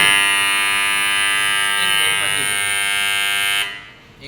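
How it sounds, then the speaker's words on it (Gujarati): Deck oven timer buzzer sounding after one minute, a loud steady electric buzz with strong harmonic hum, holding continuously for several seconds before cutting off abruptly. "એક મિનિટ પતી ગઈ એટલે બઝર વાગે"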